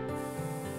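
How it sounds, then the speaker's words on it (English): Spray painting in the game Passpartout gives a soft, steady hiss of a paint spray, brief and close, with a slight change in tone partway through. "we just need to spray paint this stuff in"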